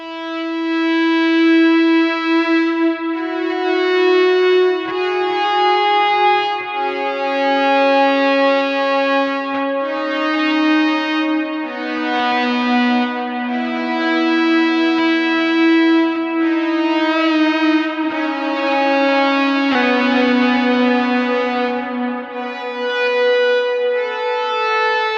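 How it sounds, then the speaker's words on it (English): Electric guitar played through a thick, gated fuzz pedal with both gain toggles up, washed in delay and reverb, ringing out in long sustained melodic notes that swell and overlap for about 25 seconds with no talking. "I've got both the G1 and G2 toggles up, which gives you this really thick gated fuzz"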